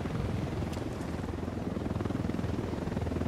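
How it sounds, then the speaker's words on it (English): A Unidad helicopter in Ghost Recon Wildlands thrums overhead, its rotor chop a steady, fairly faint pulsing drone with no talk over it. "That's a Unidad helicopter."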